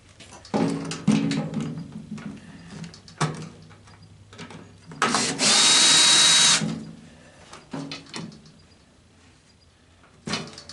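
A power drill whirs in one steady burst of about a second and a half, loud and close, amid scattered knocks and handling clatter while a microwave is dismantled for scrap.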